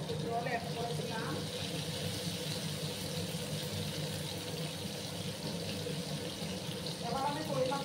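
Water pours from a tap into a pan of Bengali tel koi fish curry spice paste, a steady running hiss with background noise and brief voices underneath.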